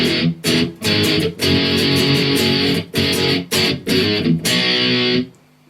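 Distorted electric guitar playing the chorus A riff of a song, dense chugging power chords with brief rhythmic stops, loud and close, ending with a sudden cutoff and no talking.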